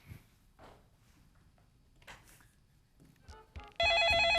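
A telephone rings on a television news broadcast, its bright electronic trill entering sharply and loudly at the end after a stretch of quiet shuffling and muffled background sounds.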